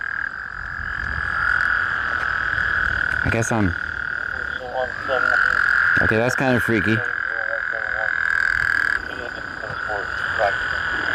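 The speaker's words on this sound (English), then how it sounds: "is that a frog?" A frog croaks in repeated bursts close by, over a steady high insect-like drone, while people talk through much of it.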